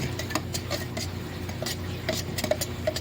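A violet candy mixture is stirred steadily in a pot, with soft rubbing and scraping strokes and a few faint clinks of the utensil against the metal, set over a low steady hum.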